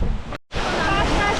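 Turgen waterfall in the Turgen Gorge near Almaty, Kazakhstan, pours as a loud, steady broadband roar of rushing water heard up close, with a brief dropout partway through.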